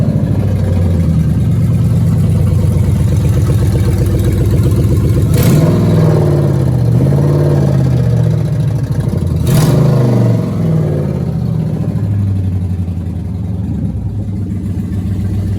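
A Gen 3 Hemi V8 swap engine runs loud and close with a steady idle, then two sharp blips of the throttle rev up and settle back down, with no talking.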